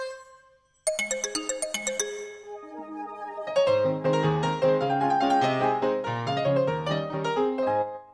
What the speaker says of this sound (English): Oh, it's a xylophone. An orange xylophone.